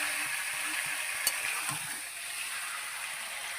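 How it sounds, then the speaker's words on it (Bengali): Chicken pieces frying in spiced masala while being cooked down for chicken kosha. The sizzle is steady and close, with a few sharp crackles and pops, and no voices. "তারপরে মাংসটাকে তুলে দিলাম, দিয়ে তারপরে কষলাম, ভালো করে কষি"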